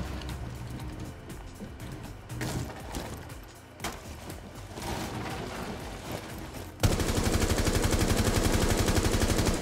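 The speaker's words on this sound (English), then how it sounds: "Where are they shooting from right now?" Gunfire in Rainbow Six Siege: scattered sharp shots and short bursts, then a loud, sustained run of rapid automatic fire, all close and with no talk.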